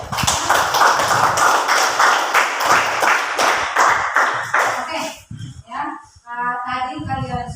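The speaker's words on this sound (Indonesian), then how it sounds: "kita beri aplaus untuk ya teman-teman yang sudah tampil mempresentasikan" A classroom of students claps for classmates who have just presented their group discussion, with dense, steady applause for about five seconds that thins into scattered, uneven claps toward the end.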